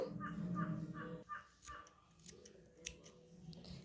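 Scissors snip through piping thread for Aari embroidery, a few crisp, close cuts at the start followed by quieter scattered clicks and rustles.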